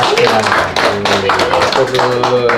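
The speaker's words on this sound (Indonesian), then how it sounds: "Kita beri aplaus ini untuk narasumber kita." An audience claps for the speakers at a podcast session, a run of sharp, close claps mixed with a voice talking over them.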